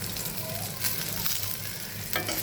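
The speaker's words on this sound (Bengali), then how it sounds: "সুন্দর করে সব বেগুন ভাজা হয়ে গেছে।" Eggplant slices fry in hot oil with a dense, continuous crackling sizzle, close and steady, with occasional louder pops and no talking.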